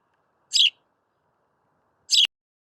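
A bird gives two short, high chirps about a second and a half apart against near silence.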